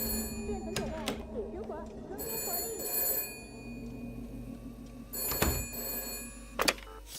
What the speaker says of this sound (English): Wasn't this phone that was ringing?